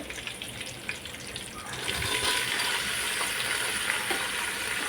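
Potatoes, ivy gourd, carrot and cauliflower go into a hot pan for masale bhat, and a quiet background builds into a steady, bright, close sizzle that holds without letup.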